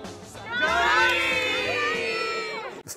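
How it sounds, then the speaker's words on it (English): An excited crowd shouting and cheering at a Johnny Depp event, a dense swell of many high voices that builds quickly and holds loud for a couple of seconds before easing off. "I've never seen so much emotion, so much of a crowd."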